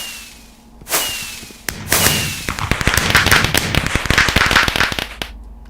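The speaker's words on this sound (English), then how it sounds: "when you get an achievement, it shoots up some fireworks." Achievement fireworks in a Minecraft Cobble Gen modpack: a few whooshing launches are followed by a long burst of rapid, loud crackling pops that ends abruptly.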